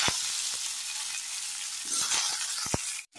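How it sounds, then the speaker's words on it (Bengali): Vegetables frying in a pan over a tempering of whole dried red chilli and panch phoron: a steady, close, loud sizzle with occasional sharp clicks of stirring, no voices. "এবার সবজিগুলো দিয়ে নেব"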